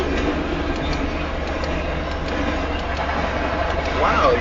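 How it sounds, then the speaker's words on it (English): A fast westbound Union Pacific stack train passes west of Nevada, Iowa, giving a steady broad rumble and roar throughout, with a brief horn-like tone near the end. "That stack train is so massive"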